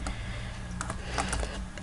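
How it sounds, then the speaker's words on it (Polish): Someone types a code on a computer keyboard while playing Minecraft: a short run of crisp key clicks, several irregular taps close together over a steady low hum, with no talk. "Klikamy T, wpisujemy poprawny kod"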